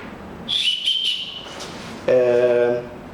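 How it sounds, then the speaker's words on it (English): A shrill safety whistle on an Osprey Flare day pack gives a few short chirps, then one louder, longer blast; the sharp tones sit close and bright. "There's also a whistle."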